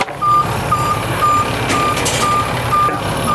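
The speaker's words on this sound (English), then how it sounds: "somebody want to start the truck up?" Sutphen 100-foot ladder fire truck idling with its engine running, a loud steady diesel rumble under a regular series of reversing beeps repeating about every half second.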